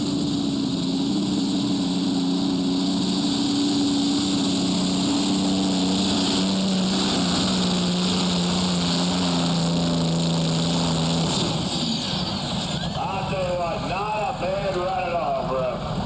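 The turbocharged Allison engine of a modified pulling tractor roars steadily and loudly throughout at a county fair tractor pull, a dense droning mechanical noise with a shifting pitch toward the end.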